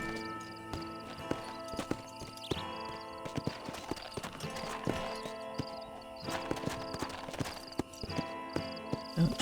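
Horse hooves clip-clop in the Western video game Red Dead Redemption, a steady walking rhythm beneath a game score and ambient sound, with occasional louder knocks and no speech.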